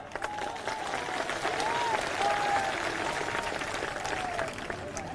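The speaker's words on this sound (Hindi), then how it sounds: "एक बार जोरदार तालियां" Sustained applause from a large crowd at a political rally in Rewa, Madhya Pradesh, honoring the singers who performed, steady clapping and cheering with a faint whistle carrying through for several seconds.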